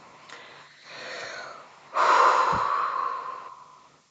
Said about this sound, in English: I'm just going to blow my nose.